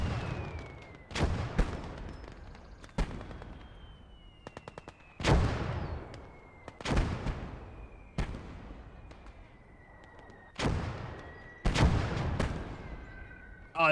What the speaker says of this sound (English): that was a really good hit by a mortar